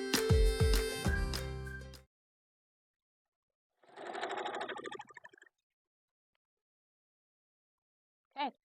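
A sewing machine runs in short bursts while joining quilt pieces with a quarter-inch seam: one dense whirring run, a pause, a second softer run, then a long silence ending in a brief click.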